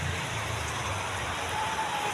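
Heavy rain pours steadily on surfaces around a vehicle on a dark, stormy road trip, a dense and constant hiss with a low rumble beneath it.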